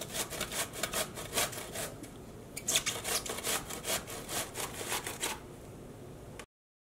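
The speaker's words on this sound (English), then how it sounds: "I used the box grater and grated the zucchini directly on top of the towel." Zucchini grated on a metal box grater over a kitchen towel, rhythmic rasping strokes close up, repeated back-and-forth scrapes for several seconds before cutting off.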